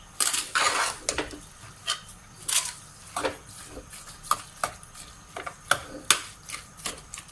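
Grated carrot halwa stirred in a metal cooking pot, an irregular series of clanks and scrapes from a spoon against the pot, close and clear with short pauses between strokes.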